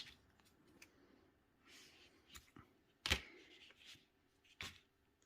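Scissors snip crochet yarn to trim the tail of a finished scrubby: two sharp, isolated cuts stand out among faint rustling and handling noises in a quiet room.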